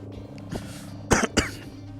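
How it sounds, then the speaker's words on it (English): Two short, close coughs in quick succession after a faint throat sound, over a low background hum. "Sorry, got a stupid cough."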